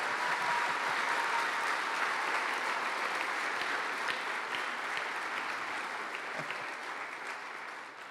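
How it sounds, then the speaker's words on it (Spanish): A church congregation applauds together in a steady, sustained roar of clapping that holds evenly for several seconds and eases slightly toward the end, with no talking over it. "si van a aplaudir, aplaudimos todos parejos"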